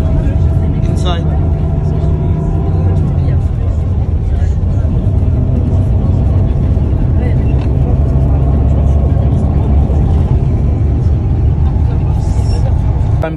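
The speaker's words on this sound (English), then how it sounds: "I'm coming in the taxi, now I'm going to my car." Taxi ride in Dubai with a steady low engine drone and road rumble filling the cabin, continuous and fairly loud, with occasional faint higher clicks and voices talking over it.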